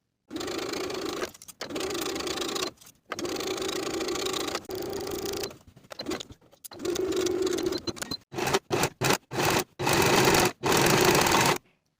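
A domestic sewing machine stitches a sleeve into an armhole with a 3/8 inch seam, running in steady close bursts of whirring, with short pauses that grow more frequent toward the end.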